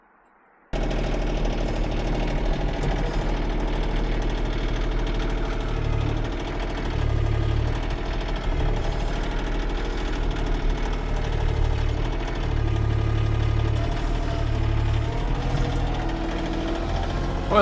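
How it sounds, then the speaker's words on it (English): A tractor engine runs steadily with a loud, low, knocking throb while hauling a heavy basket of split cherry wood, the rumble continuous and close throughout with slight surges in load. "the tractor's doing fine, but I can tell that basket's got some weight to it"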